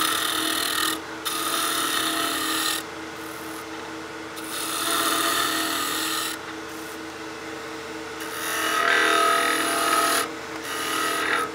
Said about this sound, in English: Just using the long point of the skew to give us a good planing cut.